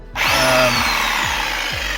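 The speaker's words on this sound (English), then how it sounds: "An STS with a masonry drill bit." Close and loud, an SDS drill fitted with a masonry bit whirs steadily, its motor pitch sagging and recovering in a run of quick repeated pulses.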